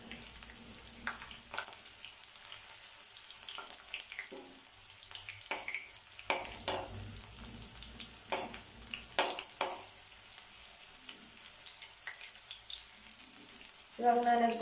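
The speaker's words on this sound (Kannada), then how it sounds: "ಚೆನ್ನಾಗಿ ಫ್ರೈ ಮಾಡ್ಕೊಳ್ಳಿ ಬೆಳ್ಳುಳ್ಳಿನ." Garlic fries in hot oil with mustard seeds and cumin, giving a low, even sizzle beneath scattered spoon scrapes and light knocks against the pan, fairly quiet and close.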